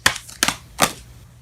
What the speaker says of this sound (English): Okay, we're going to shuffle one more.